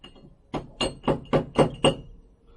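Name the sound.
hammer tapping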